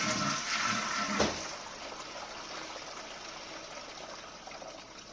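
Water trickles and drips inside a leaking concealed toilet cistern, a soft continuous flow with a brief louder splash early on, fading to a quiet trickle.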